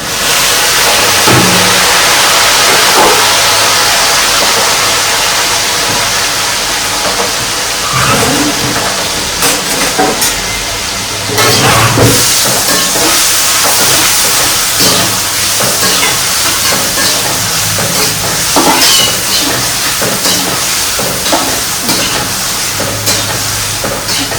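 Asafoetida and tomatoes hit hot oil in a frying pan, giving a loud, steady hiss and sizzle that runs throughout, with occasional clattering bursts from stirring or utensil knocks.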